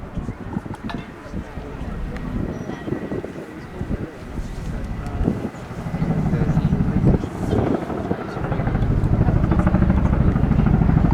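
Royal Air Force Boeing Chinook twin-rotor helicopter flying a landing approach at Cosford Air Show, a steady low rumbling drone with wind buffeting that swells louder toward the end, heard under continuous commentary.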